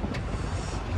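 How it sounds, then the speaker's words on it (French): Wind buffets a sailboat out at sea, a steady rushing roar with low gusty rumble that fills the whole second, close and moderately loud with no voices. "Le vent petit à petit est en train de s'établir"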